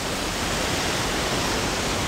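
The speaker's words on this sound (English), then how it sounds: "The water's just raging through here" Floodwater from a tropical depression roars through a river in Gatlinburg near a bridge, a loud, dense and unbroken rushing wash that holds steady throughout with no voices over it.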